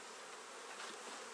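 Honey bees buzzing around a hive as full honey supers are taken off and the bees are swept away, a faint continuous dense hum with no talking.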